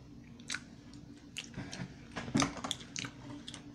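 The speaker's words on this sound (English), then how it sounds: "I chew like a cow." Loud, close chewing during a spicy pickle food challenge, with wet crunching bites and squishy mouth sounds in an irregular rhythm and no talking.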